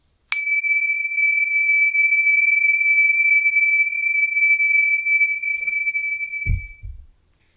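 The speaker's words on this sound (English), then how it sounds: "Why are you trying to do weird things with those bells? To make the reverb sound cool." A struck bell rings out in two clear sustained tones drenched in reverb, decaying slowly for about six seconds before a brief low thump at the end.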